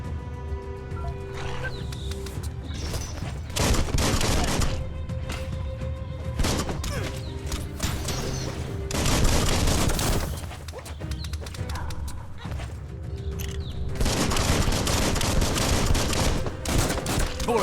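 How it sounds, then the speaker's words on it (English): Dense bursts of gunfire in the video game Biomutant, loud and close, with rapid repeated shots that swell and fade in clustered volleys over a steady music bed. "Bullets everywhere."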